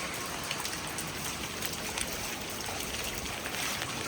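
Steady rain falls on a rooftop terrace, a soft, even hiss of countless drops with occasional closer patters, continuous and fairly quiet throughout.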